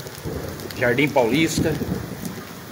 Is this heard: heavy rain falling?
yes